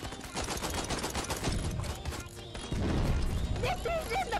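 Gunfire in Out of Ammo VR: fast bursts of automatic shots rattle continuously, with a louder stretch of firing near the end and mechanical clatter mixed in.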